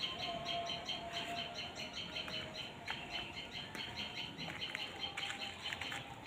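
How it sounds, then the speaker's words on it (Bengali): Birds chirp and twitter in a home courtyard among garden trees and shrubs under an open sky, with short, fairly faint calls repeating steadily throughout over a soft outdoor background hiss. "আর পাখির কিচিরমিচির শুনতে পাচ্ছেন নিশ্চয়"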